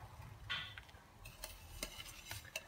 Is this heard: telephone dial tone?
no